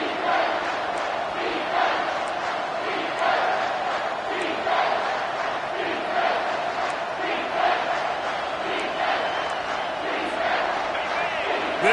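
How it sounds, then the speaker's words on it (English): Stadium crowd roars steadily in the NCAA 25 college football video game during a late-game moment, a dense, continuous cheer with swelling shouts throughout, under a commentator's voice. "This crowd knows they have to bring it in big moments, and one of those has arrived."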